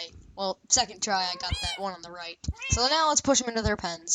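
Minecraft cats meow repeatedly in quick, high cries, mixed in with a person talking almost continuously over them.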